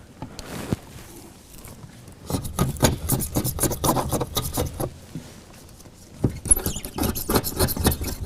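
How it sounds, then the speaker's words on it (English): Old window tint glue being scraped off a Chevy Suburban window, heard as close, fast, rasping scraping strokes in two long bursts separated by a quieter pause, with no talking. "So watch when I scrape across it."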